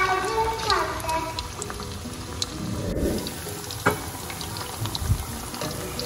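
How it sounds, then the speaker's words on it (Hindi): Pieces of fish for an Amritsari-style fry sizzle in hot oil with a continuous frying hiss that swells and settles, while a few louder bubbling bursts and soft kitchen clatter rise through it. "असीं फिश नूं फ्राई कर रहे हैं।"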